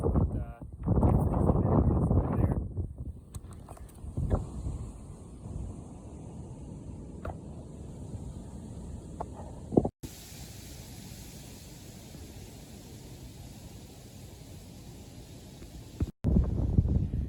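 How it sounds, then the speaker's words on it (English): Wind gusts roar across the top of a lookout tower above Lake Winnebago, a loud rumbling buffet at first that eases into a steady, softer rush of air, with a brief gust returning at the end. "Quite windy this morning."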